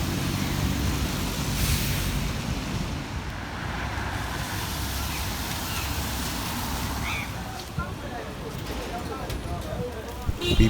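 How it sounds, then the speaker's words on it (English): Cars and other vehicles move along a wet road on Anawrahta Road in Yangon, Myanmar, on a rainy evening. Steady tyre hiss and engine rumble fill the street with no break, joined by a louder passing noise near the end. "Vehicles are moving across the road, maintaining the traffic rules and regulations."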